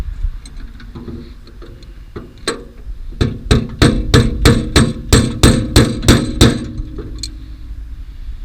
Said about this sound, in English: Hammer and tap, tap, tap.